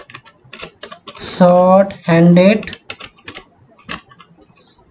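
Python code is typed on a computer keyboard, a run of quick, close key clicks with brief pauses. A person speaks briefly in the middle.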